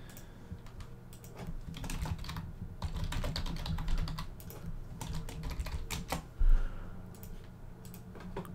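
Rapid, uneven typing on a computer keyboard while text boxes are filled in, with bursts of clicks fairly close and a steady low hum underneath.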